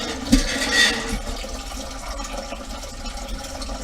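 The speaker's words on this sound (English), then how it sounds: "about a half a container of water." Tap water runs into a container for rotini pasta, a brief gush near the start swelling and then settling into a steady, moderately loud stream of filling water.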